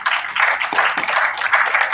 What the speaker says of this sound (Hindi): ladies and gentleman, Javed Akhtar साहब, एक बार जोरदार तालियां